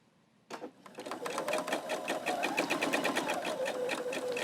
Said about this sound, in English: I'm going to go ahead and do an 1/8-inch top stitch all the way around this tree trunk